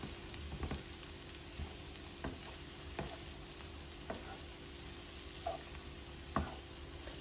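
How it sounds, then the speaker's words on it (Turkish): Meat and garlic fry in a pan for Turkish saç tava, giving a quiet steady sizzle broken by regular stirring knocks about every second or so, with no talking. "Bunlar böyle kavrulacak. Kavruluyor bunlar."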